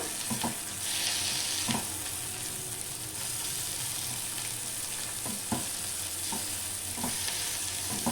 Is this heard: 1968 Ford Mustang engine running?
no